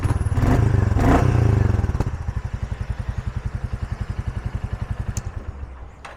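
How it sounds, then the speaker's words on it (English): A cold 2023 Royal Enfield Meteor 350 motorcycle engine revs up twice in quick blips, then settles into a loud, lumpy idle with a steady, rapid putter, close by. "I'll give it a couple small revs for you because it is cold."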